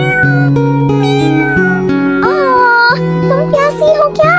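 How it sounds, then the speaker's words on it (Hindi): A small fluffy white cat meows near a school gate, its plaintive cries rising over a steady bed of sustained musical tones throughout. "नूर को एक छोटी सी फ्लफी व्हाइट बिल्ली दिखाई दी। बिल्ली बहुत प्यासी और उदास लग रही थी।"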